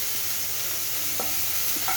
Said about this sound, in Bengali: আমার পেঁয়াজটা লাল লাল করে ভাজা হয়ে গেছে, পেঁয়াজ রসুন